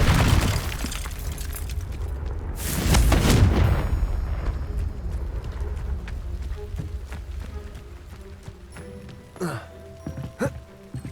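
A loud explosive blast from the Confringo spell in Hogwarts Legacy bursts out with shattering debris, then tapers into rumbling ambience with scattered clinks and small impacts.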